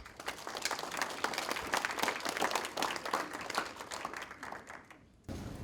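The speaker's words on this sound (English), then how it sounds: "give a round of applause to all the parents and coaches" A crowd at a spring athletic signing ceremony claps steadily, a dense burst of applause that swells and then tapers off before a quieter room tone returns near the end.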